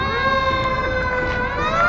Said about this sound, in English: let's wait for that siren to go away.